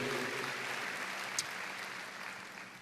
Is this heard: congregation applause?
yes